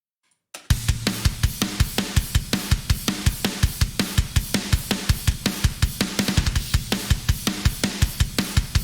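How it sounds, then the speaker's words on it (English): A raw, unprocessed drum kit plays a steady driving beat, with punchy kicks, cracking snare hits and bright cymbal wash after a brief silent start. "drums sound like this on their own with no sample replacement"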